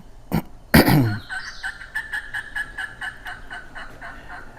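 A turkey call, used while turkey hunting, gobbles loudly up close, a rapid rattling call after a couple of sharp bursts, then a string of quick repeated notes.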